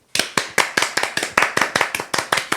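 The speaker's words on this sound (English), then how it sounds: "Give him a round of applause." A small group claps in sharp, fairly regular bursts, about a dozen crisp hand claps close by with no talking, during a casual talk show episode.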